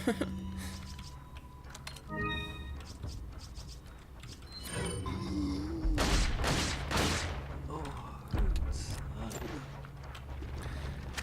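Shotgun blasts against enemies in Resident Evil 4, a few sharp booms with metallic clanks and mechanical clatter scattered through game sounds, heard under someone talking.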